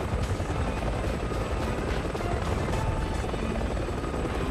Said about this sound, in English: And what would a helicopter section be without other helicopters to shoot?